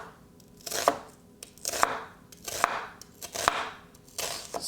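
A knife chops through chicken thighs or cilantro on a cutting board in a home kitchen. About five sharp smacks come at a roughly even rhythm, each with a crisp cutting rustle, close and clear with no talking.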